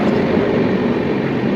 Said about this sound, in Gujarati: અહીંયા તો આપણે ટ્રેન આવી ગઈ